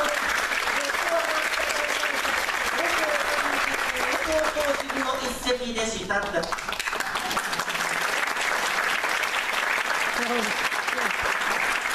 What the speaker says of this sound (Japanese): 盛大なる拍手をね